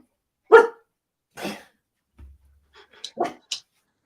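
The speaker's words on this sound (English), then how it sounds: "The dog's obviously heard something." A pet dog barks at something it has heard, giving a few sharp, separate barks and short yips spaced across several seconds, close by in an otherwise quiet room.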